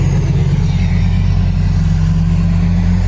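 A car's exhaust system gives a loud, steady, deep engine rumble heard up close, holding an even drone with no voices.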